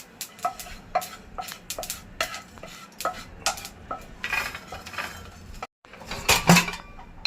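Sesame seeds stirred with a spoon in a hot pan on a switched-off gas stove, giving repeated light scraping and clinking strokes in an irregular rhythm, close and fairly quiet, with a louder rattle near the end.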